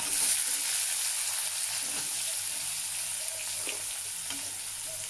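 Chopped onion with green chilli fries in hot oil for a spicy garlic-tempered pithla, giving a steady, close hiss of sizzling with faint crackles throughout.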